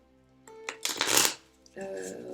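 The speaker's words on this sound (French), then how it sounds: "moi j'adore mélanger les cartes comme ça" Oracle cards shuffled by hand, heard close as a brief riffling flutter that swells and quickly fades, with a voice talking before and after.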